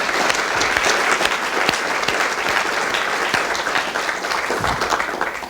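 Audience applause welcoming a speaker onto a conference stage, a dense, steady clapping from a large crowd that holds at full strength throughout with no talking over it.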